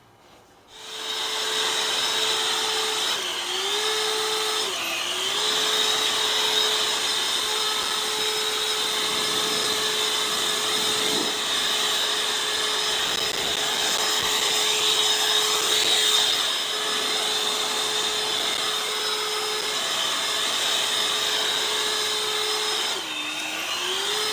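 An EGO battery-powered backpack blower runs steadily with a high electric whine and rushing air, close and constant for over twenty seconds, its pitch dipping briefly a few times.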